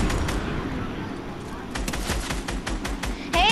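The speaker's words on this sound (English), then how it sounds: "You're getting sniped at." Sniper and other gunfire crackle through a multiplayer shooter video game as a rapid run of sharp shots over a steady background rumble, with voices talking over the action.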